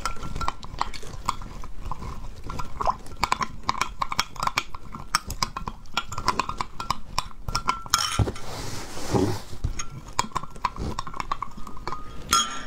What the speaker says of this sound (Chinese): 搅一下。